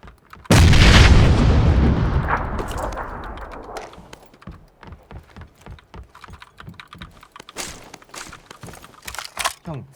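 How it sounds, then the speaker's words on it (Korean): A grenade explodes in PUBG (Battlegrounds) with a sudden loud, close boom that rumbles and fades over several seconds, followed by rapid clattering computer keyboard typing. "수류탄"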